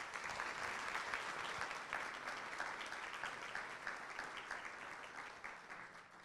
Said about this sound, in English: If I can have a round of applause for our briefers.